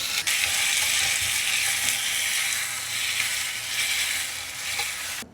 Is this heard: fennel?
yes